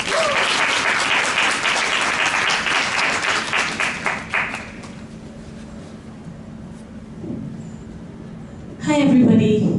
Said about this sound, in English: So please, if we could give a round of applause for Uttara.